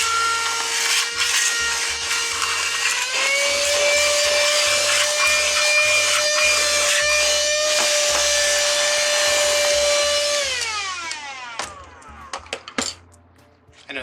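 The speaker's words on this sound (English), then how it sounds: "I know there's no point in vacuuming up when I'm still working on a wreath" Vacuum cleaner running loud and close with a steady whine that rises slightly in pitch, with bumps and rattles while it picks up bits from making a deco mesh wreath, then it powers down and winds off near the end.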